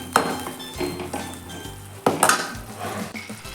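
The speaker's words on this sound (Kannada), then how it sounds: "ಸ್ವಲ್ಪ ಸೋಯಾ ಸಾಸ್ ಚೆನ್ನಾಗಿ ಮಿಕ್ಸ್ ಮಾಡಬೇಕು" A spoon scrapes and clinks against a pan as soy sauce is stirred into mushroom masala, with sharp metallic knocks over a soft background sizzle.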